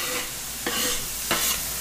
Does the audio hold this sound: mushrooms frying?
yes